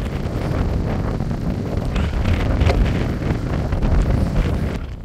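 Strong stormy wind buffets the microphone high in the Tatra mountains, a steady loud rushing roar with gusting swells across the whole stretch and no talking.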